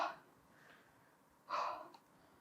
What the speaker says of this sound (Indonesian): Ngos-ngosan juga.